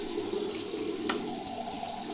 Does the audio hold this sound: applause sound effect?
no